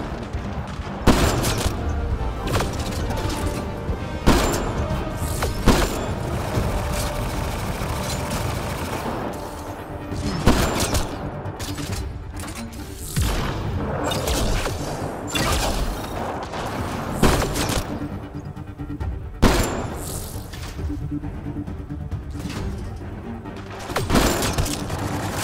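Sniper rifle shots in the video game Mass Effect: Andromeda crack out as sharp, loud single reports every few seconds, amid a busy bed of combat noise and other gunfire.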